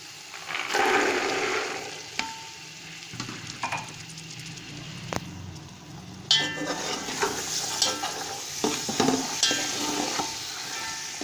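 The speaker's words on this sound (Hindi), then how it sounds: "मटरों को भी हम बहुत अच्छे तरीके से भून लेंगे इसके साथ।" Green peas frying with well-browned onion and garam masala for matar pulao, a steady sizzle broken by scraping stirs and spoon clinks in the pan, close and fairly loud with no talking.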